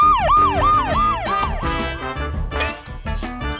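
A loud, repeating ambulance siren whoops up and down several times, mixed with upbeat music in a children's vehicle puzzle game.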